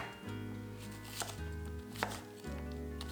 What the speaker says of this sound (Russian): нарезаем яблоки вот такими небольшими кубиками